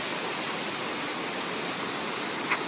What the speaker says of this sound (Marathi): हा पाण्याचा प्रवाह खाली बघू शकता